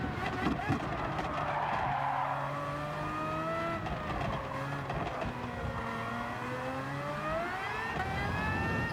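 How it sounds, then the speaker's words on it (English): A Red Bull X2019 race car in Gran Turismo at Trial Mountain Reverse skids and spins, tires squealing over a steady engine drone with shifting pitch, while a commentator talks throughout. "as he spins in front, just slides around,"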